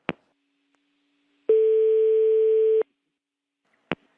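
After a telephone call is cut off, a single steady electronic tone sounds for about a second, framed by sharp clicks of the handset before and after it, clear and close.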